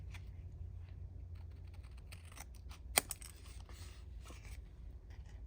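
Scissors make faint, close snips and scrapes while trimming a paper trifold pocket craft project in Tim Holtz style, with one sharper click partway through.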